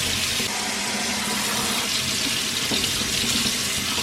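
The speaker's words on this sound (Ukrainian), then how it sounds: "Вмикаємо холодну воду" Steady rush of cold water pouring from a tap into a sink while rinsing sediment off a solidified butter cake for ghee, continuous and fairly loud throughout, with no voices.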